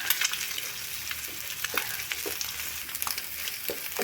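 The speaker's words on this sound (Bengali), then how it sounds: "আমি ডিমটা একটু এখানে ভাজা ভাজা করে নেব।" An egg fries in a pan with spices for a potol dish, sizzling steadily with crackling pops and small scraping stirs, close and continuous with no one speaking.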